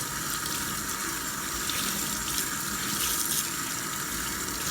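A kitchen tap runs hot water onto a towel, a steady full hiss and splash that stays constant and fairly loud throughout, with no talk.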